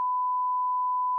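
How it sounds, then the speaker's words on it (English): A steady, continuous censor beep tone lasting just over a second, loud and alone, masking a spoken speed during a racing ride. "I'll beep out the speed just so you don't get nailed."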